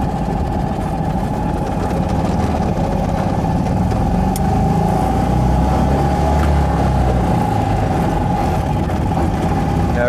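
Small single-cylinder engine of a Trojan 200 (Heinkel Kabine) bubble car driving on the road, a loud steady buzzing drone with rumbling road noise throughout, close and continuous.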